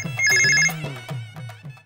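A telephone rings indoors with a short electronic ringtone, a bright repeating pulse heard close and clear, followed by softer beeping tones.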